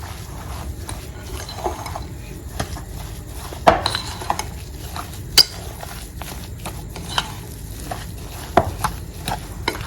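Chicken potato croquette mixture is worked in a bowl, with a stream of soft scraping and occasional sharper clinks of utensil against the dish, close and fairly loud, with no voices.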